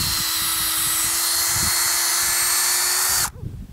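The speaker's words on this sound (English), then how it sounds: "Drill right in, and you always examine your shavings." A power drill whines steadily at close range, bites into walnut tree bark with a low grinding chatter, then cuts off abruptly near the end.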